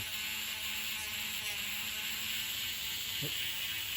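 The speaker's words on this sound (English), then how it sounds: "So I'm gonna use my Dremel, a little sander head, real low speed, and just touch it" A Dremel rotary tool with a small sander head runs at low speed against a cypress wood duck call, giving a steady, even high whine for the whole stretch.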